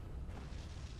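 A missile blast in the space shooter EVERSPACE, heard as a dense, continuous low boom and rumble lasting about a second, loud and close, with no voices.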